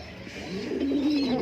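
A fancy pigeon in a loft gives a single rising, drawn-out coo, close and fairly clear over a soft background hum.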